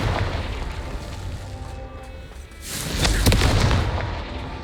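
A Confringo fire spell exploding in the Hogwarts Legacy video game, a booming blast with crackling bursts that swells loud after a quieter rumbling lead-in.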